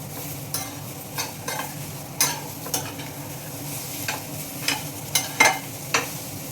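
A spoon stirs snake gourd curry with coconut in a pan, just salted, giving a string of sharp scraping strokes at an uneven pace over a soft, steady sizzle, close and fairly loud with no talking.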